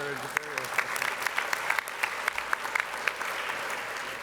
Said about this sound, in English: A big hand, a big round of applause.